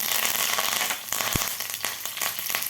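Green chillies and curry leaves hit a hot mustard-seed tempering for curd rice, giving a dense, steady crackling sizzle with a sharp pop near the middle, close and loud throughout.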